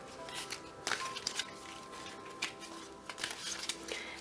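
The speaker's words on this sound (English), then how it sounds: "And we're doing that by shuffling this deck" A tarot card deck being shuffled by hand, with soft, quick papery riffles and taps coming in irregular bursts, faint and close in a quiet room.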